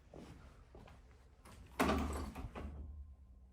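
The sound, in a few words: phone falling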